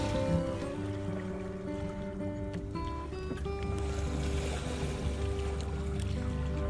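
A classic sailboat moves slowly through calm water on a warm sunny day, with a faint steady wash and low rumble along the hull and some steady tonal hum.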